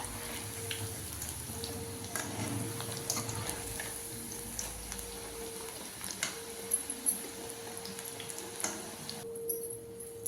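Small ragi flour pakoda pieces deep frying in hot oil, with a soft, continuous bubbling sizzle and scattered light pops and clinks over a low steady hum. The sound is moderately quiet and close, and no one speaks.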